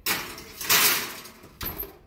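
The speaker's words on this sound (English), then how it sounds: "Well, open the oven door." A home oven door swings open in a kitchen, giving a few short clattering and scraping bursts with a brief thud near the end, close and fairly loud.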